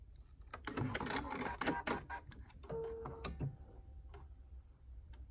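A sewing machine stitching a knit seam gives quiet rapid ticking and clattering bursts of needle action, then slows to sparse clicks; faint and close.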